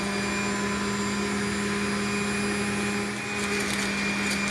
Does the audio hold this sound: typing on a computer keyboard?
no